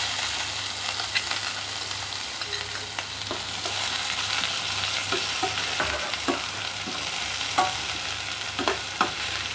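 Steady sizzling and crackling of chopped onions frying in a hot pan for radish stir-fry, with occasional scrapes and stirring clicks throughout.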